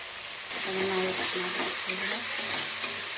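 Kalonji, chili paste, turmeric and cumin powder fry in oil for a hilsa fish dish, with a bright crackling sizzle that starts abruptly and is marked by a few clicks of a utensil, heard close.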